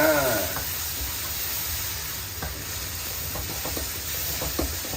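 Steady loud sizzling and frying hiss of red curry sauce in a hot wok over high heat, with a few scraping stirring clicks scattered throughout.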